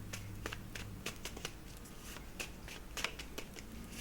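Tarot cards are drawn and shuffled from a deck in a series of soft, brisk papery flicks and slides, close and fairly quiet, with a low steady hum underneath.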